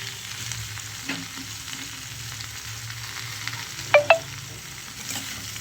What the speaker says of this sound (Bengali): পাশে এই যে ফ্রাই প্যানে যে চিংড়ি মাছগুলো ছিল সেগুলো আমি দিয়ে দিলাম।